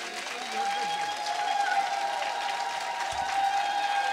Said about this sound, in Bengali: হাত তুলে তালি দিন তো দেখি